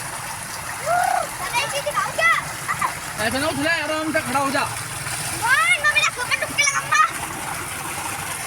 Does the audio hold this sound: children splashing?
yes